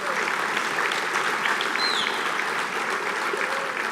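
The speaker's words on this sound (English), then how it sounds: "So let's give them a round of applause." Dinner audience at a scholarship banquet giving a round of applause, an even, sustained wash of many hands clapping from a moderate distance, with no talk over it.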